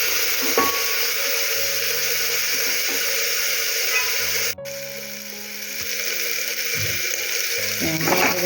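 Tomatoes sizzle and fry in a pan as a vegetable dish of elephant foot yam cooks, a steady hissing crackle throughout with occasional stirring clatter and one sharp click midway.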